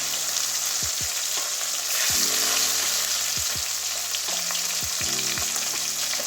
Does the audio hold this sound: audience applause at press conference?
no